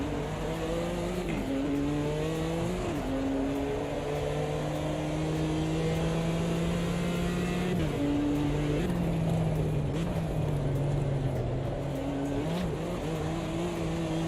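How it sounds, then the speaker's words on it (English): A race car in AMS2 screams through gear changes as it bounces over a curb, its engine pitch climbing and dropping repeatedly, loud and continuous with a brief tire squeal. "you get that engine noise reacting to the compression on the suspension."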